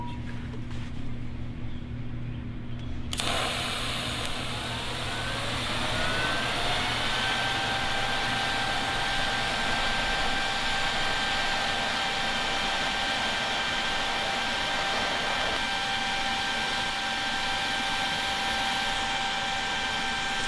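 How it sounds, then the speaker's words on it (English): ESAB Rogue 200i Pro TIG welder making a fusion weld without filler metal, a steady close hiss and hum that starts after a short lead-in and holds evenly to the end. "So that was just a fusion weld with no filler material."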